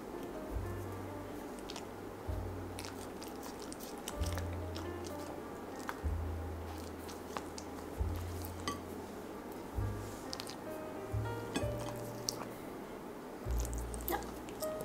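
A dog crunches and chews pieces of cucumber, with steady wet bites and mastication close to the microphone, joined by occasional light clinks like a dish.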